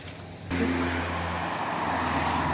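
A Subaru rally car at a rally in Valais arrives with a sudden loud roar and keeps up a strong broadband rush of engine and road noise as it passes close by.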